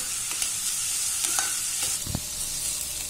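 Onions frying in a pan for an onion masala fry, a close steady sizzle broken by scraping stirs of a spoon against the pan, with no talk.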